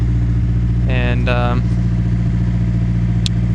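Nissan S13 with an SR20DET engine and a newly installed turbo idling high and steady, a continuous low rumble close by, with a brief voice speaking over it.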